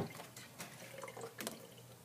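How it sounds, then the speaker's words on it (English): Water runs from a kitchen sink tap onto a Cricut cutting mat, making a faint, steady splashing with small irregular spatters over about two seconds. "I get my mat a little bit wet underneath the kitchen sink"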